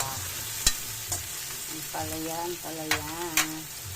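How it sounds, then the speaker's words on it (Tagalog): Bitter gourd (ampalaya) being stir-fried with eggs and onion leaves in a pan: a constant hissing sizzle with occasional sharp clinks of a utensil against the pan as the mixture is stirred. "Tapos mix na natin ang ampalaya."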